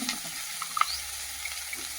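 Bitter gourd frying with turmeric and salt in a pan, a quiet close sizzle with a few faint clinks and stirs over a short stretch, no voices.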